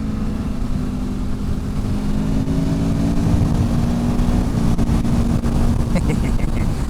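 A motorcycle engine runs steadily during a break-in ride, with a constant droning roar and wind rush and small shifts in pitch as the rider moves through the revs.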